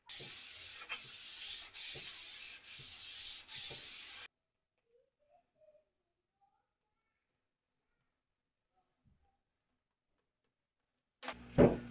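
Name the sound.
sanding wood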